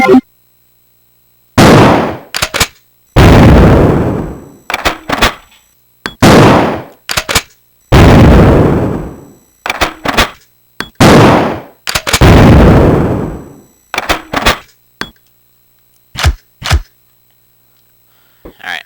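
A sawed-off Remington M1100P 12-gauge shotgun in Resident Evil 2, fired repeatedly in loud, sharp blasts with short decaying tails, about a dozen shots at irregular intervals separated by silence.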